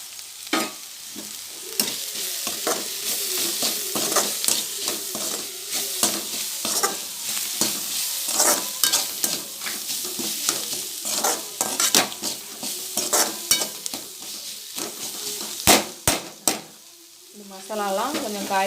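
Tomato cooks in a pan with chicken 65 masala, garam masala and chilli powder while a spoon stirs it. Rhythmic scraping strokes run over a constant sizzle, with a few sharp clinks near the end.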